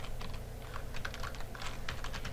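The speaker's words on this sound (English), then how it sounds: "So I'm going to write yes, I got it" Fingers tap steadily on a computer keyboard while typing a short email reply, a quick irregular run of soft clicks, close and fairly quiet over a faint background hum.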